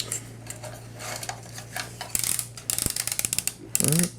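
Plastic spikes on a B2Five Acid Rain toy figure click and ratchet as they are moved in and out, a run of small, close, dry mechanical clicks in quick bursts, with no voices.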